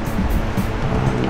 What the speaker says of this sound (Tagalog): So, ito naman yung river dito.